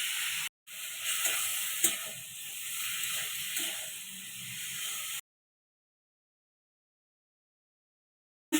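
Garlic paste going into a pan of frying beans, potato and carrot gives a steady close sizzle with light stirring scrapes, broken by a brief gap early on, then it cuts to near silence for the last few seconds.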